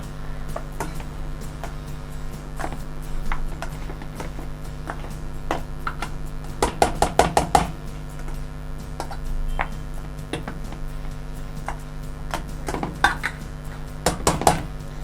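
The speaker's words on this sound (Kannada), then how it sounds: "ನೀಟಾಗಿ ಸ್ಮ್ಯಾಶ್ ಮಾಡ್ಕೋಬೇಕು." Ingredients for cheese balls being smashed in a kitchen bowl, giving steady clinks and taps of a utensil against the dish, with a quick burst of sharper knocks midway and a few more near the end.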